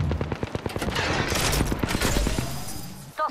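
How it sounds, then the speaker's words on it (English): Enemies fire guns in the video game Apex Legends: a loud, steady barrage of rapid automatic shots with overlapping bursts that keeps up for about three seconds before a brief pause. "Some blockers shooting at me."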